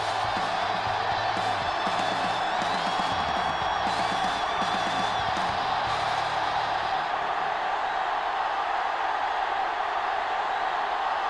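A stadium crowd roars and cheers at a football season-opening kickoff, a loud, dense wall of sustained cheering that fills the whole stretch before easing slightly toward the end.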